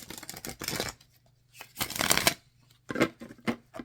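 Several quick riffles of a card deck being shuffled, close up, in separate bursts with short pauses between them.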